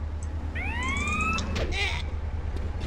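Police siren in the video game GTA San Andreas, a rising and falling wail that sweeps in and fades over a few seconds, heard over steady game background noise and music.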